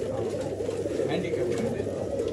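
Pigeons of an old line breed coo softly and continuously in a loft in Bangalore, a low murmuring chorus that sits under a voice.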